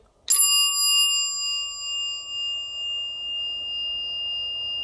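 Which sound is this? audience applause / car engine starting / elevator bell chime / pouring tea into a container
elevator bell chime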